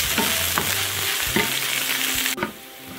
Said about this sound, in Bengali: রসুনটা খুব ভালো করে কষিয়ে নিয়েছে